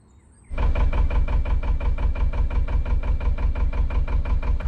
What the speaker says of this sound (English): the engine's on now and I'm just about to set off towards Marple Locks